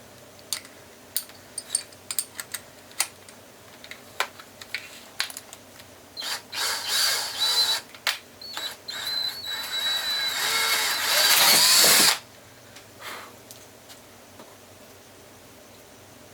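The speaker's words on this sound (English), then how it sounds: "I'm going to put my drill bit in here and make some pilot holes in the center of here" A power drill boring pilot holes in a van door, preceded by scattered clicks, then bursts of whirring with a long, loud sustained drilling run that stops abruptly.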